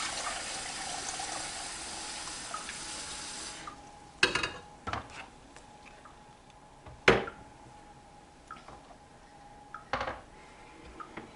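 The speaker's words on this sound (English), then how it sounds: "We're going to throw our water in." Water is poured in, a steady hissing stream for the first few seconds, then it stops and a few sharp knocks and clatters follow against quiet, with no talk.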